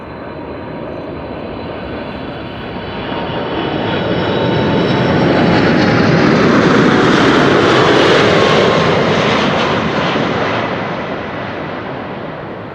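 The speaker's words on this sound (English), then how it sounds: "How loud will this airplane get?" A 23-year-old airliner comes in to land at Amsterdam Schiphol, its broad jet roar swelling from a distance to a loud, sustained peak overhead before easing away, with no talk.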